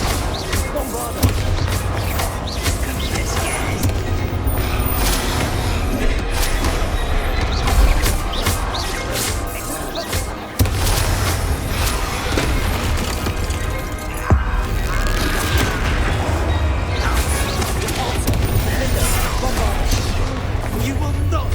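Bombarda explosion spells in the video game Hogwarts Legacy boom repeatedly through a loud, chaotic battle, with sharp cracks and heavy blasts layered among combat noise and shouted character voices.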